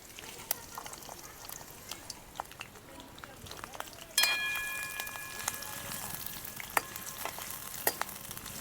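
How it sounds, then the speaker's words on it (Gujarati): Chillies and garlic dropped into hot oil with crackling cumin for a drumstick-leaf curry, giving a steady close sizzle that jumps louder midway as they hit the pan, with a few sharp pops and spatters. "તેલ આવી ગયું છે આપણું તો આપણે જીરું નાખી દઈશું જીરું કકડી ગયું છે તો આપણે મરચાં અને લસણ લીધેલું છે એ નાખી દઈશું"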